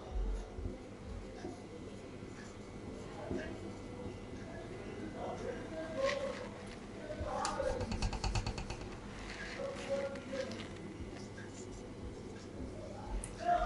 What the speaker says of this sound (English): we need to write our adjective